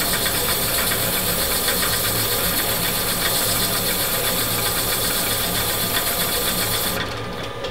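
Wooden off-center pendant spinning on a woodturning lathe while sandpaper is worked through successive grits; a steady, loud motor hum and whirring friction run continuously, then cut off near the end.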